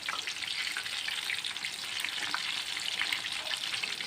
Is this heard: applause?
no